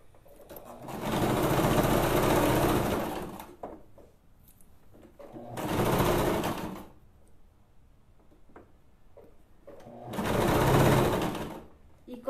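A sewing machine stitches felt in three sustained bursts of steady whirring and chatter, separated by quieter pauses with faint handling noises; no one speaks during the runs.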